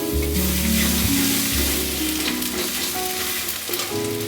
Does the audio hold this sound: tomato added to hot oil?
yes